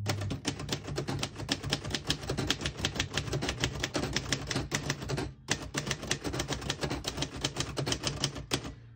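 Rapid, steady key strikes on a 1948 Royal Arrow vintage portable typewriter, close and crisp, with a brief pause partway through before the clacking resumes at the same brisk pace.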